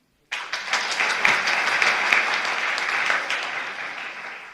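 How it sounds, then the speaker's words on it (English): Applause for the mayor at a local roads planning meeting breaks out suddenly after a moment of silence, a dense, steady clapping from a room of people that stays loud and then slowly eases. "please give them applause because they're giving their time"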